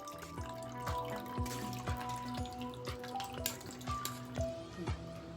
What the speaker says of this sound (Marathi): त्यामध्ये आता आपण हे ज्यूस असं घालून घ्यायचं आणि आता ते गाळून घ्यायचं आहे आपल्याला